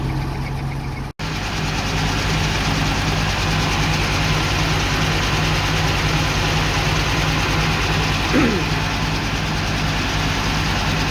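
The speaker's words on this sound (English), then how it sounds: "Bit of fast idle to help it warm up." An NZ Army V8 Land Rover engine on fast idle while warming up gives a steady, loud, low-pitched drone that holds throughout, with one brief dropout near the start.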